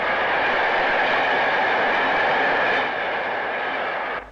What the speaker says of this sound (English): Following southbound a brush type 4 on 1V12, the 4:30 p.m.